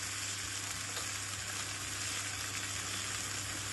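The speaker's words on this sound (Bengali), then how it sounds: "এই আলু পেঁয়াজ আদা ভাজতে ভাজতে" Potatoes, onion and ginger fry in a pan with a continuous, dense sizzle, steady and close, with no voices over it.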